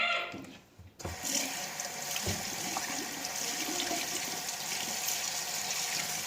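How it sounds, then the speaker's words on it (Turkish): Running tap water splashes steadily as hands and face are washed at a sink, a continuous close gush following a brief quieter start, with no talking. "Elimi yüzüme yıkıyorum."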